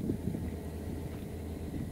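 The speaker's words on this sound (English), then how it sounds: "It's a little windy right now" Steady wind rumbles and buffets the microphone outdoors at Martinez Lake, a constant low roar with no voices.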